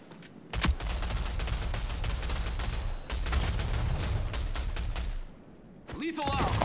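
Gunfire in the video game Rogue Company, rapid bursts of shots crackling almost continuously over several seconds, loud and close, with a brief lull near the end and talk mixed in.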